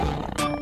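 Tiger roar sound effect in a children's cartoon about painting animals, one short, loud, rough growling burst set over bright background music.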